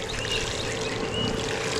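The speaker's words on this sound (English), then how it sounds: "And we're just going to water it in" Water poured from a container onto dry potting mix soil to water in freshly planted popcorn seeds, a steady close trickle and splash that runs continuously without pause.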